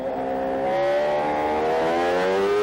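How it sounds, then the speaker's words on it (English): A 1000cc Suzuki GSX-R engine in a racing sidecar at Le Mans screams at high revs, its pitch climbing steadily as it accelerates, loud and sustained with no voices. "Just listen to that 1000cc Suzuki GSX-R engine"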